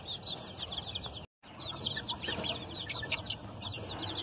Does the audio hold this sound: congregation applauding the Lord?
no